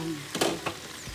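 Chicken frying in a pan with vegetables for Greek chicken, a soft sizzle broken by a couple of brief clattering stirs, quiet and close, no voices.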